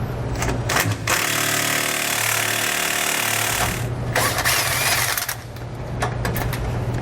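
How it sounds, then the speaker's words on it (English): Loud rattling impact-tool burst as a 21mm socket on a long extension pulls the rear anti-sway bar bolts from a 2018 Forest River Georgetown GT5 motorhome, one long run, a short break, then more drilling. "we'll grab a 21mm socket and a long extension, and we'll pull both of those bolts out"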